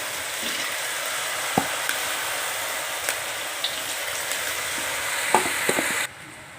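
Cauliflower pieces for gobi 65 frying in a batch of hot oil: a loud, continuous sizzling hiss close up, broken by occasional light taps and clinks of a utensil, which cuts off abruptly near the end.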